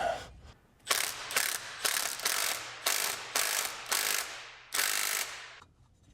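A hand ratchet bolts a part back onto a 1975 Chevrolet Stingray, giving about eight bursts of rapid clicking with short pauses between them, close and clear, with no talking.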